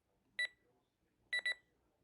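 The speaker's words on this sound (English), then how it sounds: "There's an alarm." A Reizen atomic talking alarm clock sounds its alarm with sharp electronic beeps, one single beep followed by a quick double beep in an otherwise quiet room.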